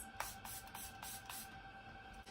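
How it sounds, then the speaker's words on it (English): Milani Make It Last setting spray misted in several short bursts, a quick series of soft close hisses spaced about every quarter second over a quiet background. "I'm just going to give a few sprays of this"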